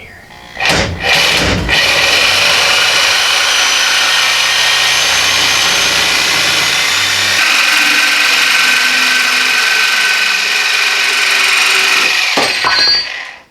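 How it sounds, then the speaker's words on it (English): A new DeWalt reciprocating saw runs loud and close in a shop, droning steadily for about ten seconds after a sharp start, its pitch shifting partway through before it cuts off abruptly. "My Craftsman corded sawzall broke, so now we got this new DeWalt made in USA deal."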